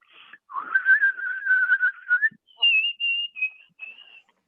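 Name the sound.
whistled bird song imitation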